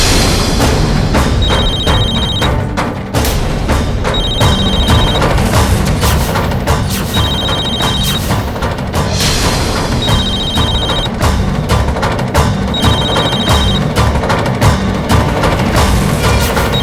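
A mobile phone rings inside a pocket, its electronic ringtone repeating in regular bursts about every three seconds, loud and close over a dense dramatic music bed, with no talking.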